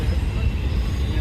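Loud train rumbling past close by on a hot, crowded platform, a steady heavy low roar with rattling wagon noise filling the whole moment and no clear break.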